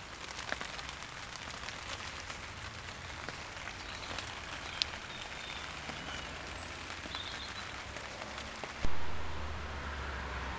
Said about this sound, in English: It hasn't stopped raining all day.